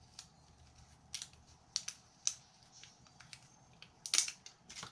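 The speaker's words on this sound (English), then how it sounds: "Peel away that backer." Backing strips being peeled off double-sided tape while a placemat gift bag is finished, sharp crackling rips spaced out over a quiet background, one louder tear near the end, no talking.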